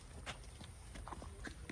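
A Sahiwal-Jersey cross dairy cow walks on a farm, and its hooves give a few quiet, irregular knocks. The knocks sit over a low background rumble.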